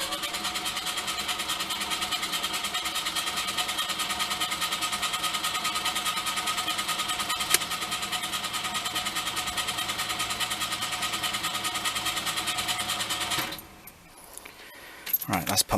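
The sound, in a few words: Lada 2102 engine cranking over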